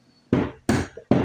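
Three sharp, loud knocks with short pauses between them, a hammer striking an RS8 clutch lining for a Click 125 up close.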